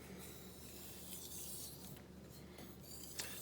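A Shirogami steel knife stroked lightly back and forth across a Japanese natural sharpening stone, giving a soft, close, continuous rasping rub.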